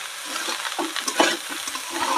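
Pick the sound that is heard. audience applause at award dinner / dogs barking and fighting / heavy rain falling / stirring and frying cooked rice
stirring and frying cooked rice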